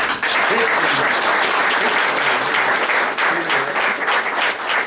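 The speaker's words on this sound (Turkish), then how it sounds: "Onlara şu an için sizlerden hakikaten bir alkış istiyorum." Sustained applause from a crowd, loud and steady throughout, with dense clapping filling the whole stretch and no pauses.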